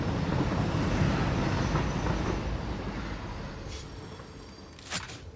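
Locomotive rolling in the video game Satisfactory: a dense, rumbling rail noise with wheel clatter that gradually fades, followed near the end by a brief metallic squeal.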